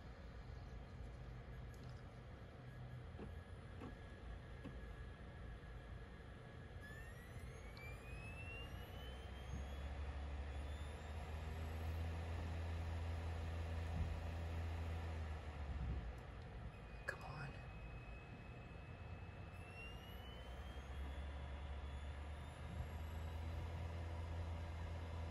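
A Polymega console's disc drive spins inside with a steady low whir and hiss, and a thin whine rises in pitch twice as the disc speeds up. The sound is faint and close, with no talk.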